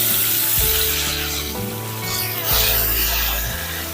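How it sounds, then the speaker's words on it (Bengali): Bhola fish fry in hot oil in a pan, a loud, steady sizzle and crackle that swells as more pieces go in, close and continuous with no talking. "10টা ভোলা মাছ একটার পর একটা ভেজে তুলে নিচ্ছি"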